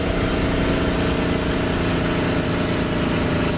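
A damaged, failing aircraft engine in the DCS flight simulator game, a loud continuous droning rumble with a rough, throbbing tone that holds steady throughout, no talking.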